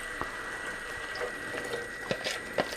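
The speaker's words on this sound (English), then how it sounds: "So we're going to pour the sauce into it, the mix." Sauce poured into a cottage pie mince mix, a soft steady liquid trickle with faint wet splashes and a few light clinks, close and fairly quiet.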